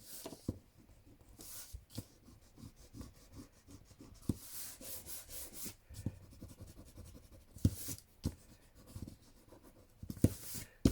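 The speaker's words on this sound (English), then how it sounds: "obviously I need to rub that out" Rubbing an eraser over paper to remove marks on handmade journaling cards or tags, a quiet, intermittent scrubbing with short bursts and taps, close by and alone.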